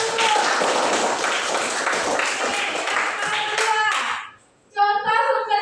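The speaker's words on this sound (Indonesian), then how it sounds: "Oke, mantap, tepuk tangan dulu." Children in a classroom clap their hands together for about four seconds in a busy, close burst of clapping, which cuts off and then gives way to young voices chanting.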